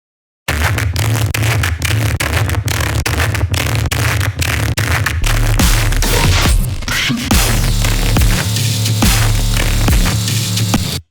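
A loud, gritty wavetable synth bass processed with Little AlterBoy plays on its own, buzzing and distorted, with rhythmic chopped pulses that give way to sustained growling notes.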